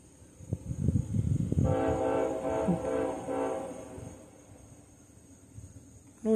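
An intermodal freight train moving slowly sounds its horn in a sustained multi-tone blast from a moderate distance, with rumbling rail noise underneath that fades away toward the end.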